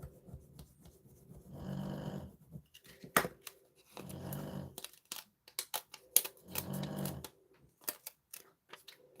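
A dog snores in slow, rhythmic bursts, each rasping breath lasting about a second with short gaps between, near and moderately loud, mixed with scattered clicks and handling noises in a quiet room.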